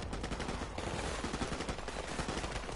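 AK rifle gunfire in a PS4 first-person shooter: a rapid, continuous stream of automatic shots at a steady rattling rhythm, loud and dense throughout, with no voices.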